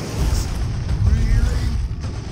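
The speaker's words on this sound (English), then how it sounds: "A grenade this time." Grenade blast in Warhammer 40k Dawn of War 2 during an Ork campaign battle, a deep rumbling boom rolling under continuous battle noise and chatter, loud and close throughout the short stretch.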